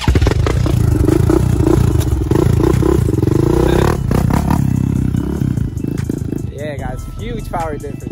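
A Honda XR100 dirt bike revs hard and roars through a wheelie, its engine loud and close, with people talking and shouting over it as the pitch rises and falls near the end.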